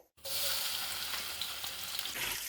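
Finely chopped onions frying in ghee with cinnamon sticks and black cardamom, a loud, steady, close sizzle that starts abruptly after a brief silence and holds evenly throughout, with no voices.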